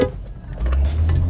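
A 2020 Skoda Rapid launches at full throttle from a standing drag-race start, its engine note swelling into a deep, steady roar partway through this very short burst.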